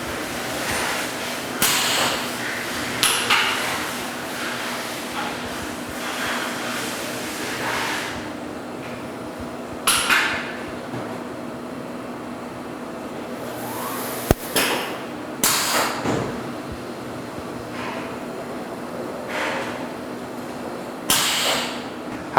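An ON12H-2 machine homing after its home button is pressed, giving a low steady hum broken by several brief clicks and knocks of moving parts, with no talking.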